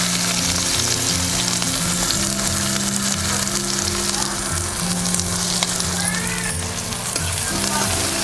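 Onions with garlic and cumin frying in oil for a winter eggplant dish, a steady close sizzle running the whole time beneath a loud, continuous music bed.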